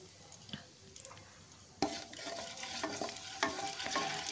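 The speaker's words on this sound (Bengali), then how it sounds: "কালো জিরেটা একটু নাড়াচাড়া করে ভেজে নিচ্ছি যাতে একটা সুন্দর ফ্লেভার আসে" Nigella seeds fry in leftover oil in a kadai while being stirred, giving a steady sizzle with scraping stir strokes; it starts quieter, then a louder burst of frying after a couple of seconds keeps a crackling, close hiss.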